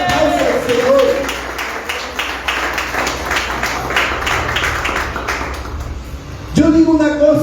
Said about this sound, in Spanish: Den un fuerte aplauso al Señor.